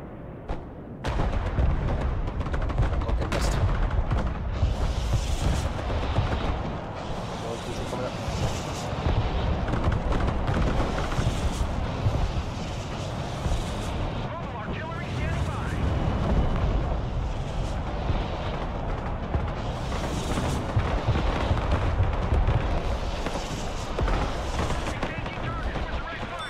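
Continuous heavy gunfire and rocket artillery launches from HIMARS in the real-time tactics game Broken Arrow, a dense roar of firing and blasts running throughout with a voice talking over it.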